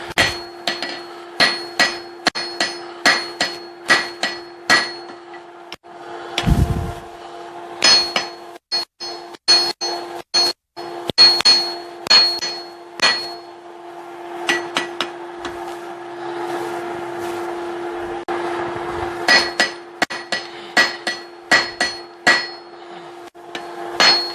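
Hot steel is hammered flat on an anvil while forging a hammer eye punch, a long series of sharp ringing metallic strikes in uneven bursts, with a steady tone hanging behind them.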